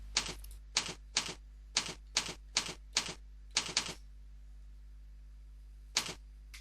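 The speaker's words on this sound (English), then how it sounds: "Enter the IP address of our device in order to access web control." Computer keyboard keys pressed one at a time in a quick even series of about ten crisp clicks, then a pause and one final keystroke, close and clear.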